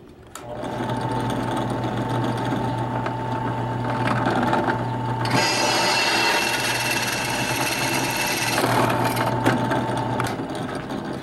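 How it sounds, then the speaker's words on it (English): A steady, high-pitched power drill whirs continuously for several seconds boring a pilot hole with a number 7 bit, its motor pitch shifting slightly partway through, with no talking. "it's nice to drill that pilot hole first"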